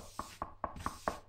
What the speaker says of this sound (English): You keep knocking, buddy.